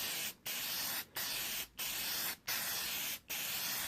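Spray paint hisses onto a surface in five steady bursts, each lasting about half a second to a second and separated by short gaps, with no voices.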